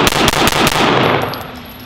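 A Full Conceal M3 folding Glock 19 pistol is drawn and snapped open, a quick series of loud, close metallic clacks and clicks over about a second before fading into quiet.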